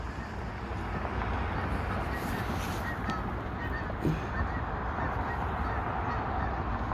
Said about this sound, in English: We have rogue geese.